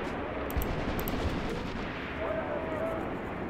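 Machine guns fire in Graviteam Tactics: Mius Front, sounding as scattered bursts and distant booms over a dense, continuous din of battle.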